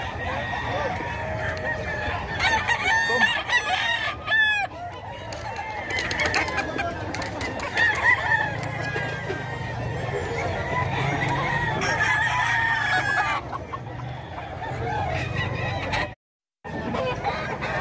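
Gamefowl bred for fighting crow one after another nearby, their calls mixed with clucking and other birds in a noisy yard, continuing until a brief dropout near the end.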